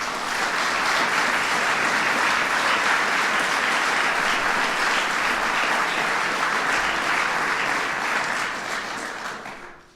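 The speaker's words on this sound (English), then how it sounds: "Please give them all a big round of applause" A large audience at a political event gives a big round of applause, steady and loud for about nine seconds before fading away at the end, with no voices over it.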